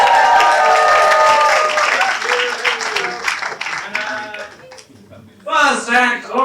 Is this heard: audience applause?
yes